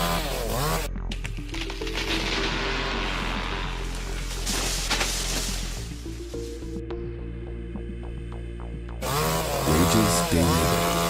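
Chainsaw cutting down a tree, the engine snarling steadily at high revs through the wood, then dropping to a rougher idle before revving loudly again, with no voices.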